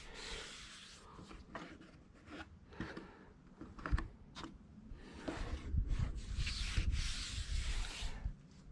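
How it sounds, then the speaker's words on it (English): Steady hand sanding on a BMW F15 bumper, a continuous soft scraping and rubbing with rhythmic strokes, close and fairly quiet. "I need to do some more sanding."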